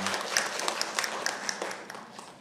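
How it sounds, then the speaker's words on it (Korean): A church congregation at a Korean Baptist Sunday service claps in praise to God, a fairly faint round of scattered, uneven claps that thins out over a couple of seconds. "하나님께 영광 박수 올려드리겠습니다."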